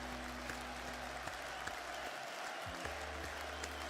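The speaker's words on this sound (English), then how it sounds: "I'm going to end this stream how we always do with some claps" A live-streaming forex day trader claps his hands to close the stream: a few faint, scattered hand claps over a steady low electrical hum, with no talking.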